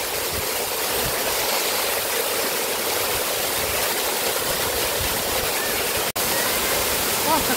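A waterfall roars as a steady, loud broadband rush of falling water, heard close and constant throughout a walk, with a single brief dropout near the end.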